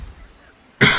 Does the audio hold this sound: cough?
yes